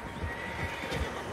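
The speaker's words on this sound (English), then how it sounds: "Horses, quite a few of them." Horses in the video game Red Dead Redemption 2 whinny and snort against a steady ambient outdoor backdrop, with soft hoof thuds recurring about every half second.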